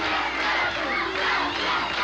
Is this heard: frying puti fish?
no